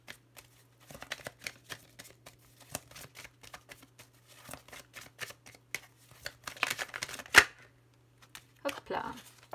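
Oracle and Lenormand cards are shuffled close by in quick, papery riffles and slaps that recur in irregular bursts, while someone talks quietly over them.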